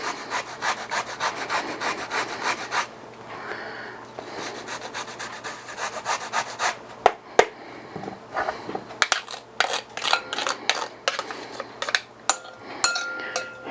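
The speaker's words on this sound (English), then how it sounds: "So I got a microplane here. So I'm going to go ahead and grate some ginger until I get a teaspoon." Fresh ginger root rubbed against a fine microplane grater, a steady rasping scrape in quick repeated strokes, close and fairly loud, with a brief pause and some lighter clinks toward the end.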